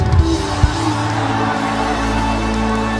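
A church congregation claps and shouts in a loud, dense burst at the start, then a steady roar of crowd noise carries on through the rest.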